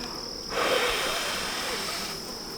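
Honey bees swarm over an opened frame from a hobbyist hive, a dense, steady buzzing hum that rises suddenly and holds close and fairly loud, with a faint high tone running through it.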